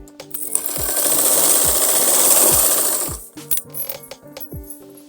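A sewing machine stitching buckram onto a salwar, a fast close mechanical whir for about three seconds, with handling clicks and taps before and after the run.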